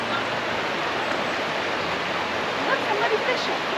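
River water at a gorge flows steadily behind a teardrop camper in the mountains, a dense, constant rushing hiss close by with no breaks.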